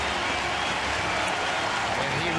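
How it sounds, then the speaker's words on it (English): Crowd of Blue Jay baseball fans applauding a departing pitcher in a stadium, a steady broad wash of distant clapping and cheering that holds evenly throughout. "there's the Blue Jay fans giving him a round of applause and showing their appreciation"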